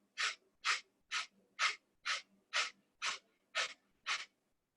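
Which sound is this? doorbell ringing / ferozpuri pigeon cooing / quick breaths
quick breaths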